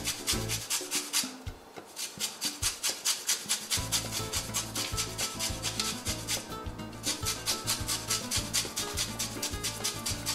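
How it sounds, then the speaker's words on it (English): Lemon zest grated by hand for a seafood dish, a steady run of rapid, loud scraping strokes in an even rhythm with a short pause partway through, and no voices. "I am going to be also adding lemon zest"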